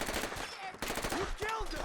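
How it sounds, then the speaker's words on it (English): A vanilla assault rifle fires in a modded Fallout 4 game, rapid automatic bursts rattling continuously at close range. "It's just a vanilla assault rifle."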